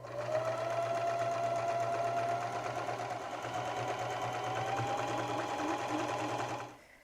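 A sewing machine fitted with a quarter-inch presser foot stitches a seam in a steady, close whirring run that holds for about six and a half seconds, then stops abruptly, with no voices over it.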